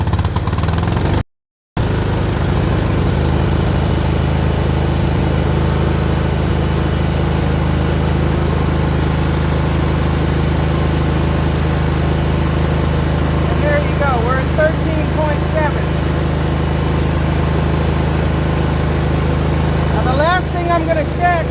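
A John Deere riding mower engine cranks briefly, then settles into a steady, loud, droning run that continues for about twenty seconds, with a person talking occasionally over the engine.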